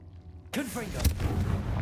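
A Confringo fire spell blast in a Harry Potter video game bursts in sharply after a quiet start, a loud explosive crack with a rushing, crackling tail.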